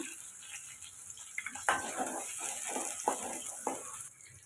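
Onion, chili and curry leaves crackle and sizzle in a frying pan, a steady close hiss with a few louder bursts as ingredients hit the oil and get stirred.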